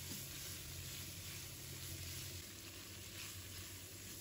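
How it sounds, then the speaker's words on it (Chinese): Squid and scallions stir-fried in a wok, giving a steady, dense sizzle that stays constant throughout with no talking. "然后用快炒的方式把它炒香，炒成整个香气就可以了"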